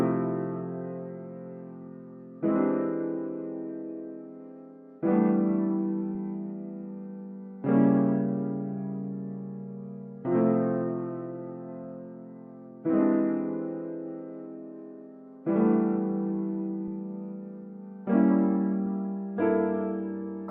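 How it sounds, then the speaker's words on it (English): Keyscape LA Custom Grand piano plays a slow progression of mostly minor seventh chords, each struck cleanly and left to ring and decay before the next, eight or nine chords in a steady, unhurried rhythm with no voices. "It's just the LA Custom Grand from Keyscape with these chords."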